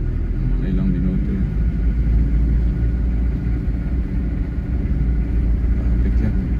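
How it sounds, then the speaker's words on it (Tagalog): Steady road traffic in Baguio, a continuous low rumble of cars and engines moving along a busy street, with people talking nearby over the constant vehicle noise. "Traffic yan."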